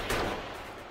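Gunfire aimed at an enemy nest in the factory-building game Factorio, a short burst of blasts heard alone and fairly close.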